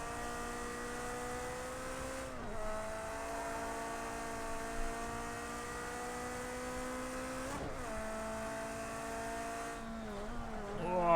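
A race car engine in Project Cars 2 drones at high revs with steady harmonic whine, dipping briefly at shift points and sweeping down near the end as it downshifts, with no talk.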